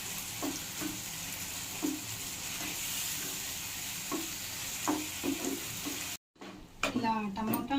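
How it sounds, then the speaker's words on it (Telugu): Spices and tomato for a Rayalaseema-style chicken curry fry in a pan with a steady sizzle, broken by scraping stir strokes. The sound cuts out briefly, then a voice talks over the frying near the end. "తర్వాత బాగా ఇలా మిక్స్ చేసుకొని ఫ్రై చేసుకోవాలి."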